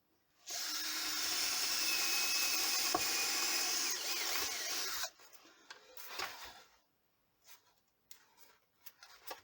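Drilling a cable hole for an LED grow-light setup in a soilless growing system, a steady high whining bore of about four and a half seconds, close and loud, followed by scattered quieter handling clicks and scrapes.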